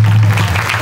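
An audience at a traditional kirtan gives a brief burst of close, loud clapping, with a low steady hum beneath.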